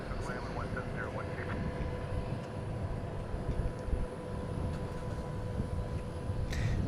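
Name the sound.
aircraft arriving at DFW International Airport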